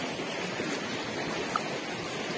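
Flowing river with plenty of clean water, a steady broadband rush of running water close by, continuous and even throughout with no talk.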